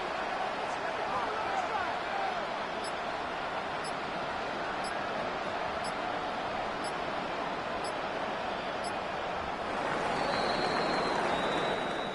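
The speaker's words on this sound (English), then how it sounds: "And the home crowd applauding." A home crowd at a Raiders-Falcons NFL football game applauds in a steady, broad roar of clapping and cheering that lasts throughout, with faint commentator voices under it.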